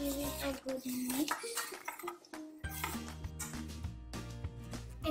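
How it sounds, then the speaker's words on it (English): A spoon mixing nacho seasoning in a bowl, with rapid ringing clinks and scrapes of metal against the bowl in bursts, close and clear, while a person talks intermittently throughout. "Now give it a good mix."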